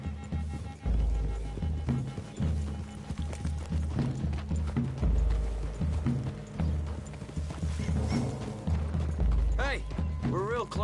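Horses in a Western setting move through trees with loose clopping hooves and creaking tack, under a steady bed of music and rustling, with a voice talking over them.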